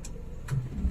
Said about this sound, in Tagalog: Nanginginig yung makina, bumaba yung RPM ng halos sabi natin 700.